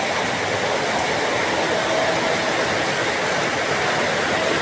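Heavy rain pouring down, a dense, loud, unbroken roar that holds steady from start to finish, with faint talk under it.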